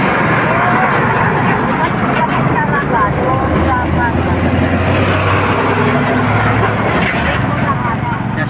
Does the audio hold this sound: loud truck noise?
yes